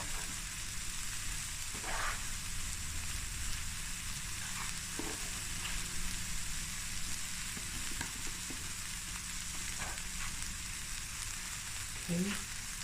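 Leftover chicken, mushrooms and vegetables stir-fry in a pot with brown rice, giving a constant low sizzle with occasional stirring scrapes and clicks throughout.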